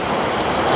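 Heavy rain falling in a steady, dense wash of hiss and patter, loud and close, with no voices over it.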